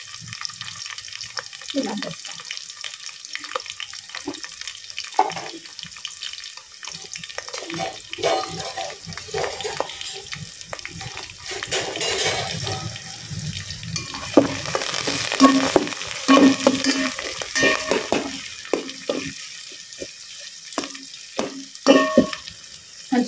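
Dried red chillies and curry leaves fry in hot oil with a steady crackling sizzle, mixed with stirring scrapes and a brief spoken word.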